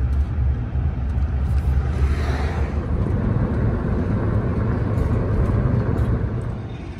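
A car being towed by another vehicle with a strap or chain, heard from inside as a steady loud low engine and road rumble with wind noise, easing slightly at the end.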